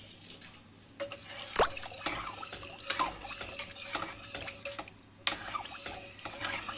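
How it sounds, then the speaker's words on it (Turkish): A spoon stirs tarhana yogurt soup in a cooking pot, close by, with soft scraping, swishing liquid and a few sharp metallic clinks against the pot. "Birkaç dakika böyle karıştırarak arkadaşlar pişirmeye devam edelim."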